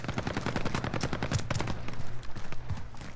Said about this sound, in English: Getting shot from by someone.